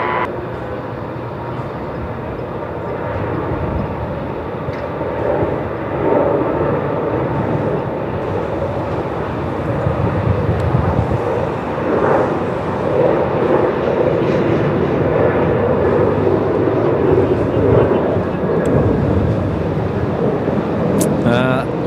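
An airliner departs Melbourne Airport, its steady broad jet roar sustained and fairly even throughout, swelling slightly in the middle with no speech over it.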